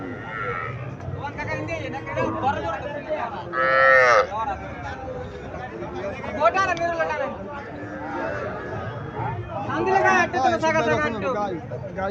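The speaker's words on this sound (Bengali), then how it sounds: "এখানে একটা গাভী দেখা যাচ্ছে, লাল রঙের গাভী।" Red Haryana cow at a cattle market in Chandimura, Comilla, lowing among other livestock, with a few loud moos standing out over a constant murmur of nearby voices and crowd chatter.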